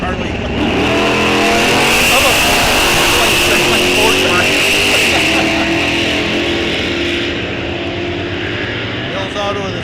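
A Plymouth Cuda drag car roars down the strip at Rock Falls Raceway, a loud, sustained engine howl rising through the gears and holding near then easing away, with an announcer talking over it.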